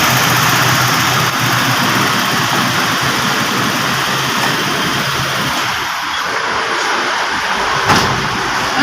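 A Toyota Revo gasoline engine that stalls when electrical loads come on runs close and loud at a steady, unbroken drone, with a faint click near the end.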